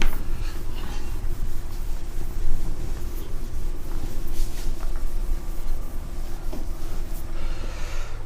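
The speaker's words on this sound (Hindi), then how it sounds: "मैं इसको बार बार मिटाता हूँ, इसी पे लिखता हूँ।" Chalk or marker scratching across a classroom board, a continuous scraping texture with faint squeaks and rubbing, close and steady without speech.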